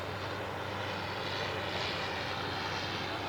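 Propeller aeroplane engine at an evening air display, a steady, continuous drone held at even loudness, with a slight swell midway as the aircraft passes.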